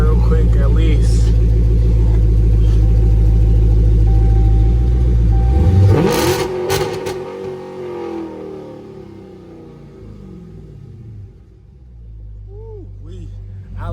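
A car with its mid-muffler deleted and aftermarket exhaust revs hard, a loud droning engine note that drops after about six seconds to a lower idle rumble, with voices talking over it.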